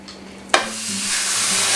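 After a quiet moment, meat for spaghetti bolognese hits a hot pan with a sudden hiss that settles into a steady, loud sizzle.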